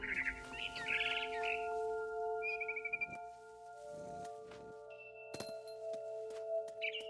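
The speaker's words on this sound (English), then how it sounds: "It was a barn swallow going back to her nest." Short barn swallow chirps and tweets from the video game What Remains of Edith Finch come in bursts over a steady electronic tone backdrop, with a few soft taps and clicks between them.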